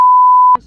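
A single loud, pure censor beep holds steady for about half a second, then cuts off abruptly into quiet room noise.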